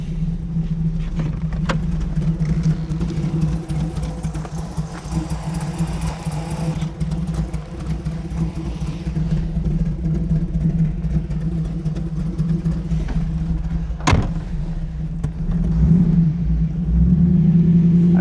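A 1937 Buick street rod with a BluePrint 350 crate engine idles in a garage, a steady low rumble with a few sharp clicks and a brief rev near the end.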